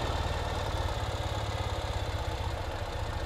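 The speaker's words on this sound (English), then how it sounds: "This one has a new style fuel injection, so you can see how it idles nice and smooth." 2019 Ural motorcycle with new fuel injection idling close by, a steady, even low throb with a smooth regular pulse and no talk.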